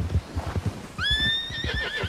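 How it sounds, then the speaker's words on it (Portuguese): A horse whinnies loudly and close in Red Dead Redemption 2, a cold-resistant snow breed, its rising neigh lasting about a second after a few soft hoof clops and rustles. "É o cavalo que é resistente à neve, a frio."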